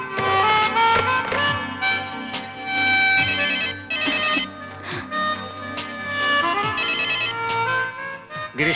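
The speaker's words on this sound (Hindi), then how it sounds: "गिरीश फोन नहीं उठा रहा है।" A telephone rings in a sustained, melodic electronic ringtone with repeating bursts, loud and clear over a quiet background with no talk.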